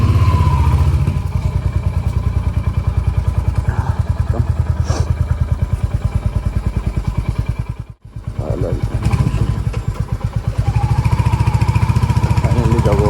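A Royal Enfield Hunter 350 motorcycle thumps along on its first ride, a loud close rhythmic single-cylinder beat that briefly drops out near the middle before picking back up.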